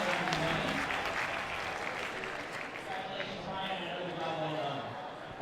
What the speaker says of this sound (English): they were cheering for Brian Giselle and running Vancouver CUC 2013